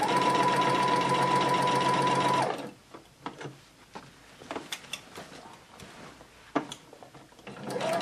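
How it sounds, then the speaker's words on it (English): A sewing machine runs steadily, stitching a print skirt through three layers of fabric, a close mechanical whir for about two seconds before stopping, followed by faint scattered clicks and handling sounds. "keep sewing on that 1/8 and just sew on top of that through all the three thicknesses"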